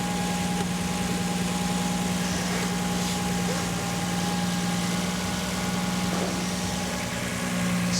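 An engine idles just after its first start, a steady close drone with a constant low hum and a higher tonal whine, even in level throughout.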